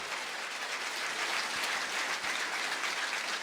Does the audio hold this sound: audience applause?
yes